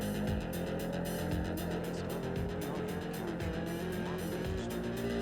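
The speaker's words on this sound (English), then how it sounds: "I think I hear like a distorted car engine noise in the background." Distorted car engine noise mixed into a music track, a rough revving drone sitting under dense, loud instrumentation throughout.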